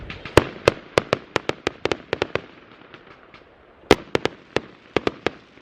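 Fireworks on Bonfire Night in the UK burst in a rapid irregular string of sharp cracks and bangs, some close together in clusters, loud and nearby with quiet gaps between volleys; no speech.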